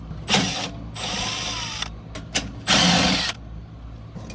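Power tool backing out 5/16 screws on a Trane package unit blower housing, several short loud whirring bursts of varied length separated by pauses, close up.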